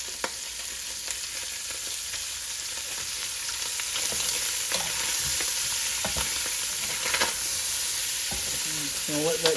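Garlic and half a stick of butter sizzle in a pan with a steady close frying hiss, under repeated utensil scrapes and taps as the pan is stirred, with no talk.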